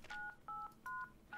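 Telephone keypad dialing tones in the video game Dr. Langeskov, The Tiger, and The Terribly Cursed Emerald, four short evenly spaced beeps of dual-pitched tone, clean and quiet.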